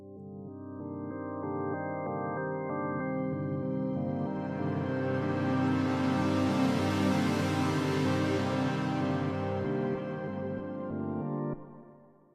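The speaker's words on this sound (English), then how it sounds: "That is one synth, one chord, making that entire sound." A single synthesizer holds one chord that swells from a plucky, pulsing start into a bright, dense, wide wash, building steadily and then cutting off, loud with no talk.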